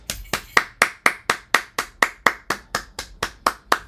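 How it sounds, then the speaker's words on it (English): Steady, close hand clapping, about fifteen sharp claps at an even brisk pace with nothing else heard. "Let's give Caleb a round of applause."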